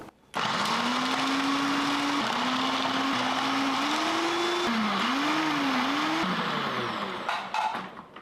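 An electric chopper slicing two halved large onions for chicken biryani runs loud and close, its motor whining steadily and shifting pitch as the blades work, then winding down and stopping.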